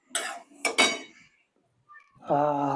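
Spoon scraping roasted semolina (rava) around a hot pan on a just-switched-off gas stove: three quick scraping strokes close by, a pause, then a steady humming tone.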